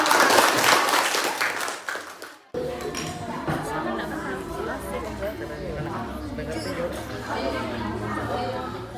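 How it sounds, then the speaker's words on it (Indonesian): Classroom applause during a lesson on addictive substances lasts about two seconds and fades, then gives way to murmuring student chatter and a few light clinks that continue underneath. "tepuk tangan untuk kita semua"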